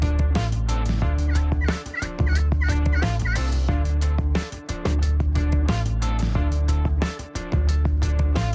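Wild turkey gobbling during a public-land turkey hunt in Wisconsin, rolling gobbles repeating in several strong bursts over the full span, loud and clear with no talk.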